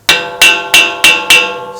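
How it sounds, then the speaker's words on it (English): A hammer lightly taps a rear wheel bearing on a 2013 Ford Explorer: five sharp metallic strikes at an even rhythm, each close and ringing briefly before fading. "but just get a hammer into a light tap."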